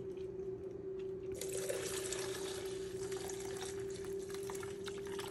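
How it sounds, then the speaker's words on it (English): Paint thinner pours steadily into a bucket, a continuous close splashing rush that starts partway in and holds over a constant low hum. "we're gonna pour this paint thinner into this bucket"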